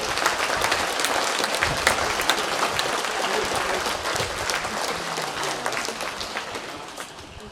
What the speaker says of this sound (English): Let's give these folks a big round of applause.